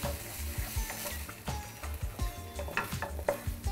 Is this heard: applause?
no